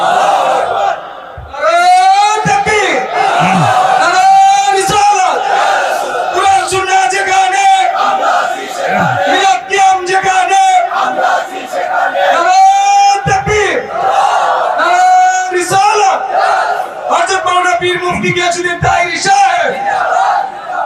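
A large crowd at an Islamic sermon gathering roars the takbir back to the preacher in repeated, rhythmic massed shouts that keep up at full volume throughout.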